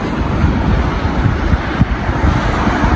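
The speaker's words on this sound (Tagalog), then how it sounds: "medyo mahangin po ngayon sa labas" Steady wind buffeting outdoors, a continuous low rumble with gusty surges throughout and no voices.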